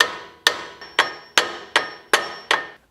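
A hammer raps the side of a steering ball joint on a second-generation Nissan Xterra/Frontier: seven sharp, ringing metallic taps at a steady pace, close and loud, with no voices.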